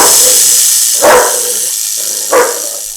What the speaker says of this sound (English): and then it barked.